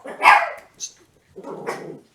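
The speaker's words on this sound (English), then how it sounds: "my dogs, of course, they have to bark while I'm doing this." Indoor dogs give a few close, sharp barks and yips in uneven bursts, the loudest at the start and a softer, longer one near the end.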